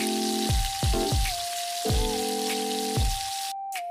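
Food frying in a Roblox role-play kitchen: a steady hiss of sizzling runs throughout, broken by several soft thuds and drawn-out synthetic game tones, with a short drop to near silence just before the end.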